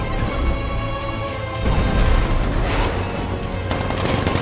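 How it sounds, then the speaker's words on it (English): Loud, continuous barrage of heavy gunfire and booming 60mm tank cannon blasts in the video game Batman: Arkham Knight, layered with crashing impacts, dense and close throughout. "60mm cannon operational."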